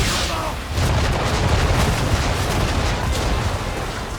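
Naval cannons firing from a ship in Assassin's Creed 3, a dense rolling barrage of heavy booms merging into a continuous loud rumble.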